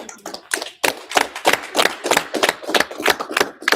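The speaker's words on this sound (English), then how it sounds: "That's a hand clap." A run of crisp, close hand claps in a quick, slightly uneven rhythm, a dozen or so sharp strikes with brief gaps between them.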